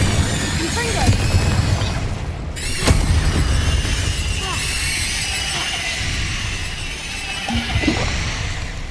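Confringo explosive spell blasts in Hogwarts Legacy, a dense game mix of booming bursts and crashing impacts with a sharp hit near the middle, while character voices shout over the fray.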